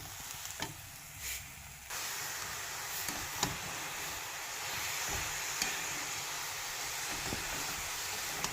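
Grated coconut and sugarcane jaggery frying in a wok for a sweet filling, with a steady soft sizzle and occasional scraping stir strokes throughout.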